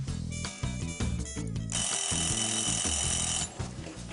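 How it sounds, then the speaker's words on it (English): An alarm clock rings in a home kitchen, bursts of harsh metallic ringing starting and stopping several times, then a sustained loud bright ring for over a second before choppy bursts resume. "I'm just going to set my alarm"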